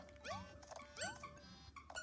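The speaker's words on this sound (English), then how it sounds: "Please stop squeaking the dog toy." A rubber dog toy squeaks in two rising, whistly squeals about a second apart, followed by softer squeaks and rustling, all quiet and close with no talking.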